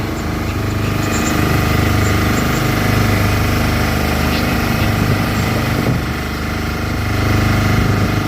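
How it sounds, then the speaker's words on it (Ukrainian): Generators hum beside an agricultural drone used for sorghum desiccation in a field, a loud, steady engine drone with a constant buzzing tone throughout, with no voices. "Генератори гудять, звісно."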